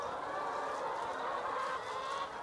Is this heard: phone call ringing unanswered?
no